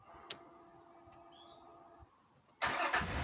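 A Nissan Elgrand E51 engine idles faintly, with a brief high chirping squeal from the fan belt, then a louder burst of engine noise as it revs near the end.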